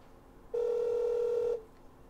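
A single steady Google Hangouts voice-call ringback tone hums for about a second, then cuts off, with quiet line noise before and after.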